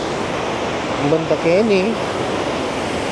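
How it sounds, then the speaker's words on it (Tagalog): Fast, heavy floodwater current rushing past sandbags near a dam in Santa Rita, Lubao, Pampanga, a steady broadband roar throughout with a voice speaking over it briefly in the middle. "Karagula yung agos, Diyos ko, kabilis na."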